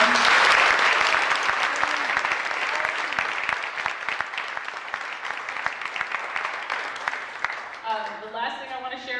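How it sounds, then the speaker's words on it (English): An audience at a poetry reading applauds for the poets, a loud dense burst that gradually thins to scattered claps, after which a speaker starts talking. "One more round of applause for them."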